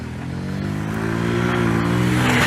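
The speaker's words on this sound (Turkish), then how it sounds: "traktörler, araçlar yangın yerine doğru gidiyorlar" Tractors, cars and motorcycles drive toward a wildfire near Marmaris, their engines droning and steadily rising in pitch and loudness as they draw closer, with no talk over them.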